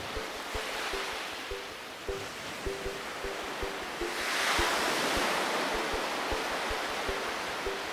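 Waves washing onto a quiet beach at Benaulim, Goa, a steady rushing surf hiss swelling midway, with faint regular thumps underneath and no talk.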